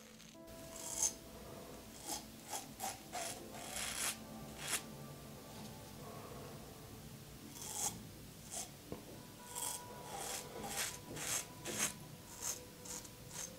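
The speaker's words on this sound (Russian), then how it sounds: "Бритва едет нормально." Safety razor with an efficient, aggressive head shaving stubble over lather, giving repeated close scraping strokes in a steady uneven rhythm, with no talking.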